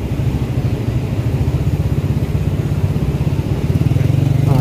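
Loud, close engine drone of motorcycles and other vehicles moving slowly past in congested traffic on a flooded road, a continuous rumbling putter with no voices.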